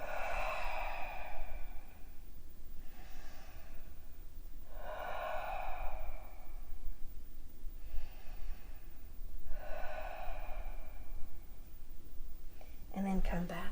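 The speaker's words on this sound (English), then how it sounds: "Deep breaths." Slow, deep breaths during a fitball workout, about five broad inhale and exhale swells spaced a few seconds apart, close and soft over a steady low hum, with a brief knock near the end.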